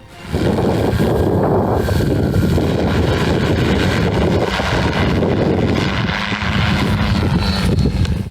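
A loud, steady whirring engine drone of a military bomber drone in flight, with heavy wind rush, close by and continuous for several seconds.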